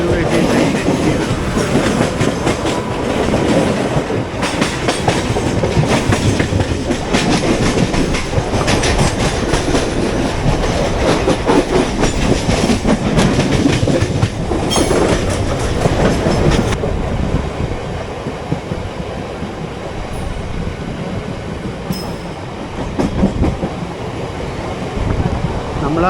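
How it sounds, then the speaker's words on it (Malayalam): A train runs along the railway track on the Mumbai to Manmad route near the Thull Ghats, with loud, close rumbling and repeated rhythmic clickety-clack of wheels over rail joints that eases off toward the end. "ആസൻസോൾ WAT ട്രെയിൻ എത്തിയാണ്."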